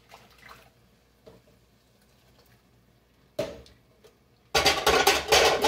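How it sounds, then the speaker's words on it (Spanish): A cup that held tomato purée is rinsed at a kitchen sink: quiet handling first, then a short splash, then a loud rush of running water near the end. "voy a enjuagar la taza donde tenía yo el puré de tomate"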